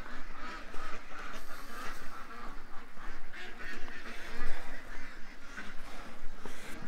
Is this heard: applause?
no